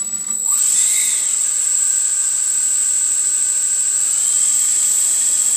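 An RC electric motor spun up from a transmitter throttle, a steady high-pitched whine that rises within the first second and then holds loud and constant with no talk.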